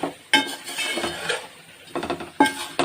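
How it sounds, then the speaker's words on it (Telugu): Bitter gourd tipped into a frying pan of fried chili powder and stirred: close metallic clinks and scrapes of a spoon against the pan in a few separate bursts, with soft rustling between them. "ఈ కాకరకాయలు ఇందులో వేసేసి ఒకసారి ఇలా కలుపుకుందాం"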